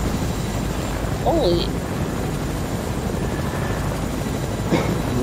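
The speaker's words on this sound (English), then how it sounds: "Look at my helicopter." Helicopter in a video game, a constant loud rotor and engine roar throughout, with a brief exclamation from a player talking over it.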